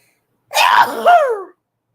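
One loud, close sneeze bursts out alone against silence, a sharp rising cry that trails off into a descending whine over about a second.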